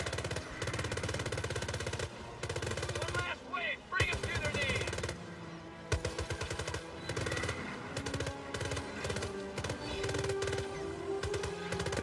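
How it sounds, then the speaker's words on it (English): A gun fires in the VR shooter Starship Troopers: Continuum, loud rapid automatic bursts that rattle in long strings separated by short pauses, with faint voice sounds in the background. "I don't know why the gun speeds up."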